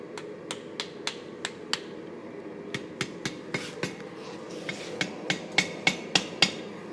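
Blacksmith's hammer striking hot steel on an anvil while forging a spear and arrow head at an outdoor hammer-in, a steady run of sharp, ringing metallic blows in uneven clusters, close by, with no talking.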